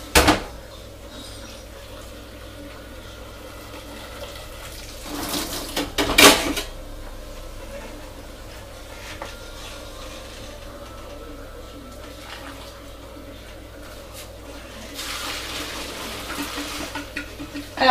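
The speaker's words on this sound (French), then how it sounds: "Je vais les égoutter et je vais garder 125 ml à peu près de jus de cuisson" Cooked penne being drained from a pot into a sink, with metallic clatter of pot and utensils and a brief loud splash of water pouring around the middle, then quieter kitchen handling sounds.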